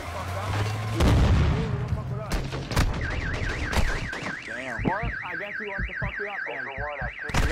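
Gunfire in the video game DMZ: a few sharp, loud shots and bursts early on, then a wavering alarm-like siren tone with more scattered shots, under and between talking voices.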